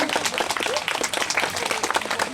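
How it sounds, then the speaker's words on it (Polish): Audience applause rings out at an outdoor family festival in Grabno, a dense, steady patter of many hands that fills the whole moment, with a voice faintly mixed in. "brawa są jak najbardziej na miejscu"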